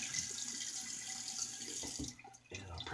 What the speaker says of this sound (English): Let me get a rinse.